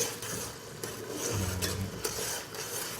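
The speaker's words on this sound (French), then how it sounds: "Dans une casserole, je mets de l'huile, de la tomate pâte que j'essaie de fondre." Tomato paste melting in oil in a saucepan as it is stirred, giving soft, faint scraping and rubbing strokes with a low sizzle underneath.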